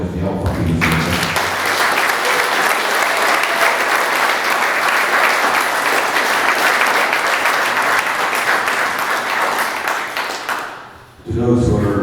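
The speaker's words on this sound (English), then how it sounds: "So please give them a round of applause because they all fucking deserve it." A large seminar crowd at a bodybuilding event breaks into loud, sustained applause for the panel, a dense wash of clapping for about ten seconds that fades briefly before talk resumes.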